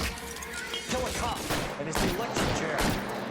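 Pistol shots ring out in the L.A. Noire video game, several sharp cracks spaced irregularly over a few seconds, fairly close and punchy amid some background game noise.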